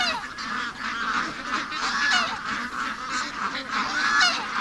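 A dense flock of ducks crowds a feeder outdoors, producing a continuous overlapping chorus of loud honking quacks close by, steady throughout with no talk.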